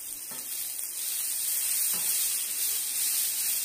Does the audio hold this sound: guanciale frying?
yes